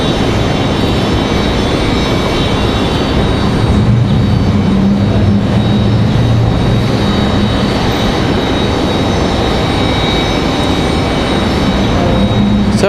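Air Canada jet airliner at Raleigh-Durham airport, a steady, loud broadband engine roar that holds evenly throughout without pause, with no voices present.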